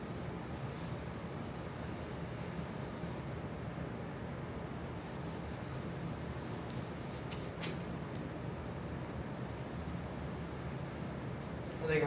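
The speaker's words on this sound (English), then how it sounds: "On the hard to get places, you know, a foam brush works just fine" A foam brush wipes Rubio Monocoat Oil Plus 2C Pure onto hard-to-reach sides of an ash coffee table, giving a steady, soft, close rubbing swish that runs unbroken throughout.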